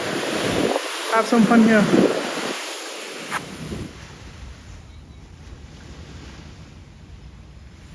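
Ocean waves wash onto a beach in Krabi, Thailand, a soft broadband rush under wind buffeting on the microphone. A person speaks briefly at the start, then the surf carries on faintly alone.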